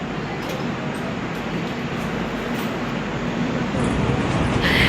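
Steady rumble of the Kaziranga Express train running between Kolkata and Silghat Town, a broad continuous roar that swells slightly toward the end, with no talk.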